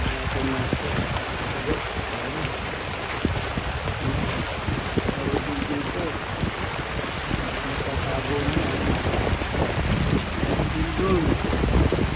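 Steady rain noise at an outdoor fishing spot, a dense continuous wash with rough wind buffeting on the microphone and faint voices underneath.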